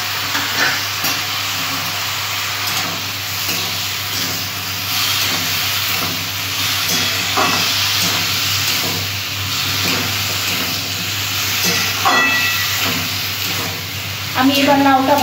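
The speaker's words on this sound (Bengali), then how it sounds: "আমি এবার লাউটা ভালো করে কষিয়ে নেব।" Bottle gourd sizzles and hisses as it is stir-fried with cumin, chili, turmeric, salt and sugar in a pan, a steady frying noise with occasional stirring scrapes and a constant low hum beneath.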